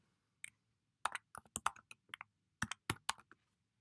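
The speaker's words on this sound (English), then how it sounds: "we can then type in a name" Fingers typing a file name on a computer keyboard, a quick irregular burst of crisp, close key taps with short pauses between clusters, alone in a quiet room.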